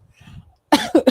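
Three sharp, close coughs come in quick succession, loud and abrupt after a brief stretch of faint, quiet throat noise.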